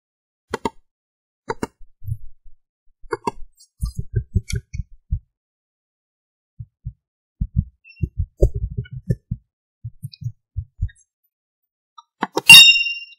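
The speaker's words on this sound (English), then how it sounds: "So the sound is actually of notification." A short bright app notification bell chime rings out near the end, after a series of soft low thumps and clicks; no talking.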